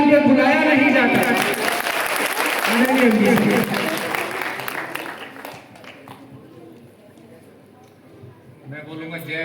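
Audience applause at a gathering for a Bahujan singer at LNJP hospital, a loud sustained burst of clapping and crowd noise that fades toward the end and returns briefly, with speech mixed in.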